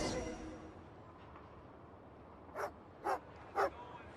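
Sampo the dog in Genshin Impact barks three times, short evenly spaced barks coming after a fading sound and a quiet stretch, moderately loud against a soft background.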